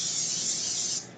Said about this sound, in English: So you need pan spray.